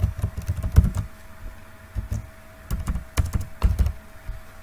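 Computer keyboard keys typed in quick irregular bursts while a username and password are entered, with short pauses between runs of clicks, close and moderately loud.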